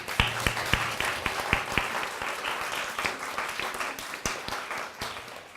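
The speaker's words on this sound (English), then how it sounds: "Let's give them all a round of applause once again." An audience applauds, a burst of many hands clapping that carries on steadily before gradually thinning out.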